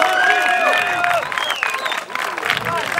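Loud crowd noise from the stands at a no-rules fighting event, with cheering, whistles and shouting mixed with clapping, a commentator's voice running over it.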